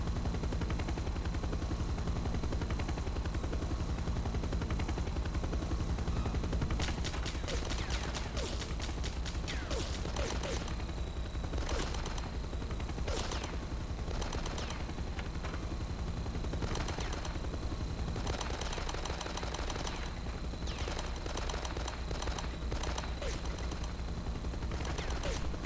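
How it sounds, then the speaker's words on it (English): Machine-gun fire from a helicopter in the Die Hard Nakatomi Plaza video game rattles in dense rapid bursts over a constant loud game noise bed, the shots continuing in volleys through most of the stretch. "That's the helicopter shooting me."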